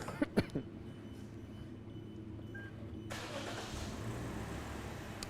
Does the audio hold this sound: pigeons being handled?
no